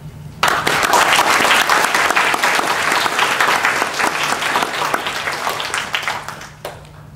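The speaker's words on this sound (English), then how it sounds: "I think we should all give them a round of applause." A graduation crowd breaks into loud, sustained applause for teachers and parents during a valedictorian speech, a thick wash of many hands that swells right away and slowly thins toward the end.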